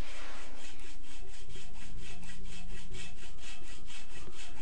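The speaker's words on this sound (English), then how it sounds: "the excess was cut off with a hacksaw" A hacksaw cutting off excess threaded rod, with steady rhythmic back-and-forth rasping strokes, close and loud, continuing without pause.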